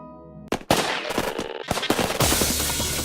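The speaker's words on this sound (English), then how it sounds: "He hears gunfire from behind." Bursts of gunfire in the I/O visual novel: a sharp shot followed by a rapid, loud volley of machine-gun fire that trails into a sustained noisy roar, with no voices.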